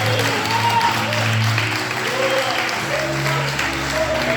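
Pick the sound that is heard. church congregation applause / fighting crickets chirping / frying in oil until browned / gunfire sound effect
church congregation applause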